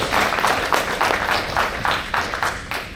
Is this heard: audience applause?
yes